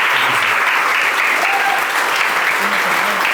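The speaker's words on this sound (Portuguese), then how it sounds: "Dá um forte aplauso." A church congregation applauds loudly during an evening family service, thick sustained clapping close and continuous, with faint voices or music tones threading through.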